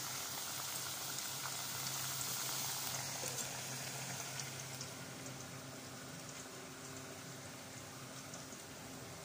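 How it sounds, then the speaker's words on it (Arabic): Potatoes frying in hot oil in a pot, a dense, even crackle and bubbling sizzle that holds steady and softens slightly toward the end, with no talking. "ولما الزيت في قلبها بحمر فيها البطاطس اهو"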